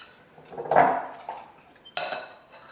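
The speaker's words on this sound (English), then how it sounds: "Now nicely mix them together with the eggs." Zucchini being mixed with eggs for an Italian frittata, a few close clinks and taps of a utensil against a bowl with quiet gaps between them.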